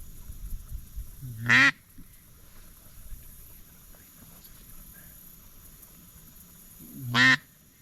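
Two loud, close duck calls, one about a second and a half in and another near the seven-second mark, rise from a teal duck sitting out on the water, with quiet open-air background between them.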